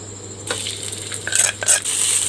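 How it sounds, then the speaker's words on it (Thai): Freshly pounded curry paste crackles and sizzles loudly in oil in a hot pan, broken by scraping stirs of a spatula against the metal, close and without talking. "เอาพริกแกงที่เราตำไว้นะครับลงไปเลย"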